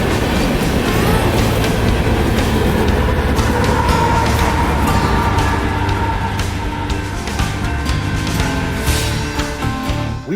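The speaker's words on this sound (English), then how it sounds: "another northbound coal train would interrupt my slurping" A BNSF northbound coal train with two locomotives up front and two pushing at the rear rolls past at Crowley, Texas, a loud, steady rumble with rail squeal and clattering wheels filling the whole stretch.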